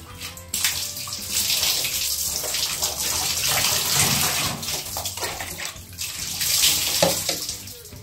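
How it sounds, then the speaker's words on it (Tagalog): Water is poured over a printed car magnet after scrubbing, a continuous splashing gush with spattering that swells and fades across several seconds, fairly close. "So, buhusan natin ng tubig."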